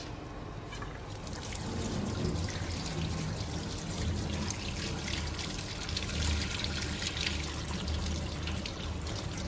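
Running water pours and trickles steadily over a heart being washed during an autopsy, a continuous close splashing stream with no talk.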